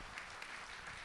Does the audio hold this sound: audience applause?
yes